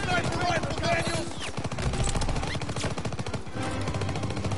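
Gunfire in the Call of Duty WWII video game: rapid bursts of automatic shots mixed with single cracks, layered over game voices and battle noise throughout.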